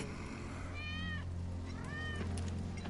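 Two distinct meows from Wedge's cat in the Final Fantasy 7 Remake video game, each a rising-then-falling harmonic cry, heard over a steady low in-game ambient hum.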